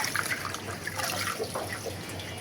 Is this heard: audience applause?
no